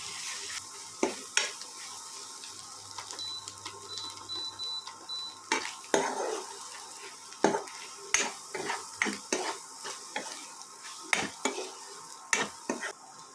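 Country-chicken egg fry stirred in a pan, a rhythmic series of metal spatula scrapes and knocks against the pan over a quiet sizzle, repeating about once a second.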